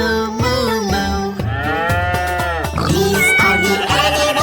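A children's animal song plays, in which a voice imitates a cow mooing with several drawn-out sung moos over bright, loud backing music.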